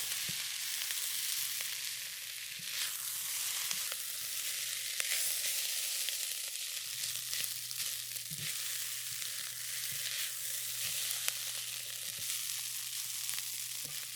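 Seafood curry fried rice sizzles in a pan with curry powder, a steady, close, even crackle that runs unbroken for the whole stretch, with a few faint clinks along the way.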